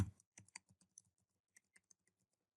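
A computer keyboard is typed on softly and close by as a password goes in: a dozen or so light, separate keystrokes in an uneven rhythm, then near silence.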